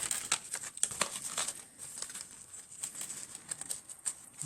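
Paper is creased and folded into steps for a Halloween pop-up card, giving faint, close crinkling and soft rustling taps in uneven bursts, with a thin high hiss in the background.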